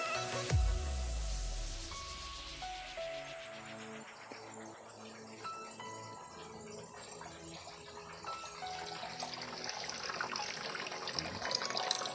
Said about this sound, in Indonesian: output airnya tuh seperti ini. Output airnya dari dari pompa